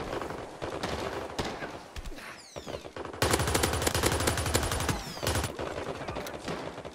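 Submachine gun fire in the WWII shooter United 1944, used for close combat: loud, rapid automatic bursts that crackle almost continuously, with a denser, heavier stretch of sustained shooting midway.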